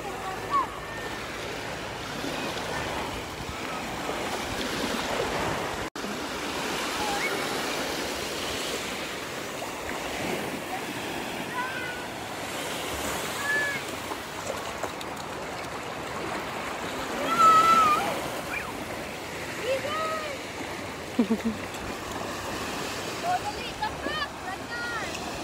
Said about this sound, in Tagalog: Nais kaayo, kusog kaayo ang balod.